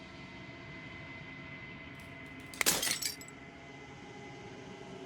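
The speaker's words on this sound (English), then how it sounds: "As the final fragment of glass shatters," A sudden burst of glass shattering midway, bright crackling fragments scattering for about half a second over a steady low hum, with a brief spoken word.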